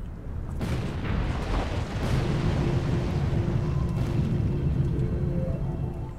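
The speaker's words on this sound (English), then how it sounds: "Bitch, an explosion!" A sustained, rumbling explosion from the video game Aion rolls on for several seconds, deep and dense, with no voices over it.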